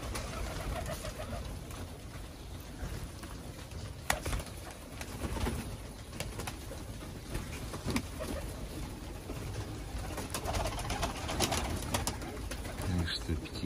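Pigeons coo steadily in a new pigeon loft, a soft continuous murmur of overlapping calls nearby, with occasional flutters and light knocks throughout.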